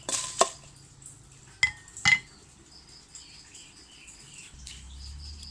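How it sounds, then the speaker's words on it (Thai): Chilies dry-roast in a pan while a utensil scrapes and clinks against the metal a few times in sharp separate hits, with quiet gaps between and a low hum at the end. "เดี๋ยวเราก็ไปคั่วพริกต่อเนาะ"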